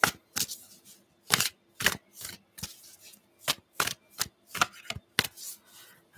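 Tarot cards being shuffled by hand in a series of crisp riffling bursts, about a dozen short rustles spaced irregularly, close and fairly quiet with near silence between them.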